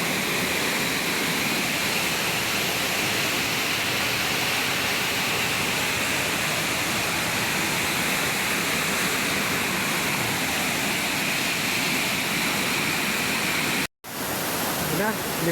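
Strong waves rolling in steadily at a lagoon in San Salvador, Laguna, making a loud, continuous wash of surf. The noise is unbroken apart from one brief dropout near the end.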